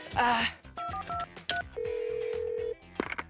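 Series of short electronic dialing tones, then a long steady tone, with other beeps and background sounds around them.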